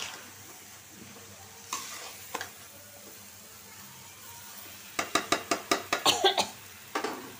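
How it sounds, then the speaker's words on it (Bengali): A spoon stirs catla fish curry with pointed gourd and spices in a sizzling pan, with a quiet hiss and a few scrapes early on, then a quick burst of rhythmic clatters and a final scrape near the end. "আগে চুলায় রাখি আর মশলার সাথে তরকারিটা মিশিয়ে দিই"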